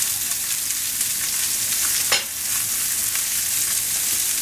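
Shallots being stirred around in a frying pan, a steady sizzle throughout with a brief louder scrape from the stirring partway through, close up with no talk.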